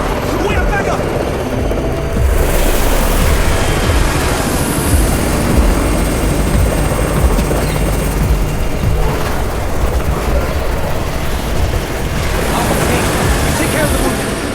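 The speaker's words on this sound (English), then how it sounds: "It's Raven's chopper! We have backup!" A helicopter arrives in the post-apocalyptic zombie video game Undawn, its loud, steady rotor roar and engine whine filling the scene while voices shout over it.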